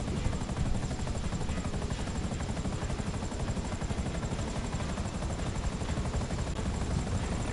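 A helicopter flies in the GTA Online video game, its rotor and engine producing a loud, constant whirring drone that stays steady and close throughout.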